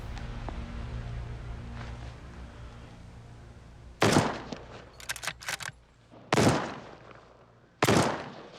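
Rifle shots fired at a grizzly bear during a hunt, three loud sharp reports spaced a few seconds apart, with a burst of clattering rattles between the first two over a quiet outdoor background.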